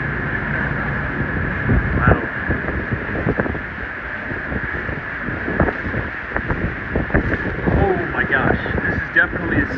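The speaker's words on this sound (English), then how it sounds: "Definitely a 60-mile-an-hour wind gust right here." A strong wind gust during a snowstorm in Midtown Manhattan roars and buffets the microphone in a steady rushing wash with a sustained whistling tone, loud and continuous while a person talks over it.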